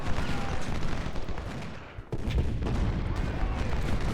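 Civil War-era artillery and gunfire in the strategy game Ultimate General: Civil War: a continuous, dense rumble of booming cannon and crackling volleys, dipping briefly midway before surging back at full loudness.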